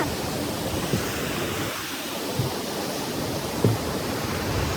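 A steady, loud rush of a flowing mountain stream on the Sirikhola to Gorkhey trek near Darjeeling fills the whole clip, a continuous broadband roar with a few faint knocks beneath it and no voices.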